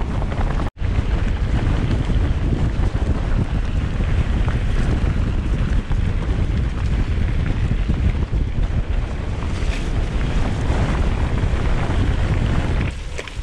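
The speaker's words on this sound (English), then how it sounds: "There's nothing worse than riding in wind. This is absolutely brutal." Strong, relentless wind roars and buffets the microphone while mountain biking at Malham Cove in the Yorkshire Dales, a loud continuous rumble throughout with no talk.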